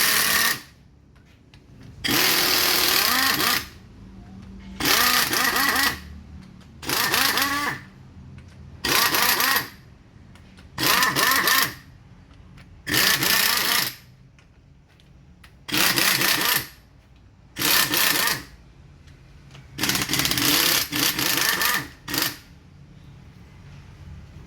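A power tool loosens the bolts on a scooter's left side cover in about a dozen loud, close bursts of whirring and rattling, each a second or so long and split by short quiet gaps.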